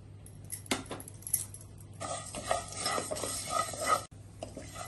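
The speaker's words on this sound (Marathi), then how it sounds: "आता आपण याच्यामध्ये ही शेव घालूया आणि थोडीशी परतून घेऊया।" Sev vermicelli is stirred and roasted in half a spoon of hot ghee in a pan, with scraping and clinking of a spoon against metal and a faint sizzle, close by with no talk.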